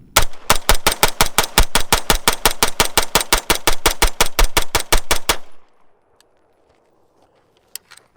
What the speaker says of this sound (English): So let's go ahead and do another mag dump.